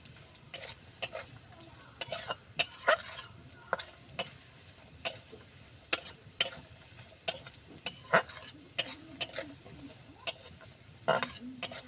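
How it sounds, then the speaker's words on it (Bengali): Bori lentil dumplings are fried in oil with onion and garlic. A spatula knocks and scrapes against the pan in irregular sharp clicks over a faint, low frying hiss. "বড়িগুলো তেলের মধ্যে সুন্দর করে লাল করে নেব"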